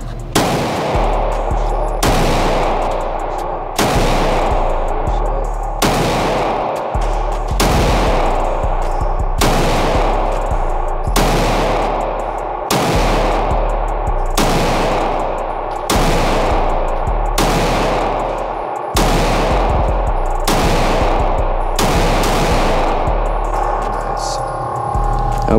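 Loud, evenly spaced shots from a Glock 19 pistol at an outdoor shooting range, a string of about fifteen rounds fired at 25 yards, each crack ringing out with a steady low hum between.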